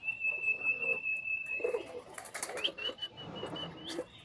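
Caged pigeons of Bangladeshi breeds coo softly and rustle, with a wing flutter midway and a few brief chirps, close and moderately loud, a steady high tone running underneath at first.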